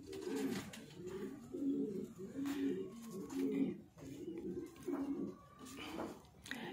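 Breeder pigeons coo in a loft, a close series of soft repeated rolling coos in uneven bursts, with faint background noise and a voice briefly present.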